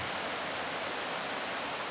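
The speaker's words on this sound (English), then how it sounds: "the sound of running water is not exactly the first thing you want to hear" Water runs through an underground bayou pipe, a steady, dense rushing hiss that fills the space evenly, continuous and moderately loud.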